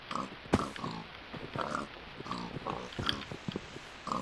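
Pigs in a video game squeal and grunt in short bursts as they are struck over and over, each hit landing with a thud, the cries coming rapidly and close.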